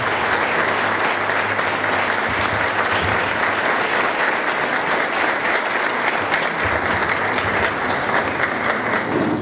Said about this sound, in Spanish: para quien pida un fuerte aplauso en este momento